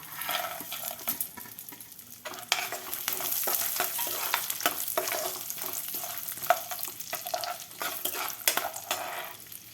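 Spices, moong dal, cashews and peanuts tempering in hot oil for semolina upma give a steady close sizzle with scattered stirring clinks and scrapes throughout.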